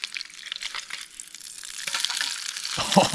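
Trout cooking over a small outdoor campfire, with a steady crackling sizzle throughout that grows louder and denser toward the end.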